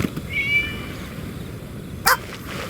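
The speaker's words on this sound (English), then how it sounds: "It was just a cat." A cat in Genshin Impact gives one short, clear meow near the start, followed by a quiet stretch and a brief sharp game sound effect later.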